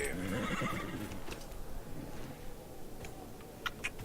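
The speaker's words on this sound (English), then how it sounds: "A horse." Horse in the fantasy role-playing game Dragon Age Inquisition, a loud whinny at the start with faint hoof clatter and game ambience continuing after, a few sharp clicks near the end.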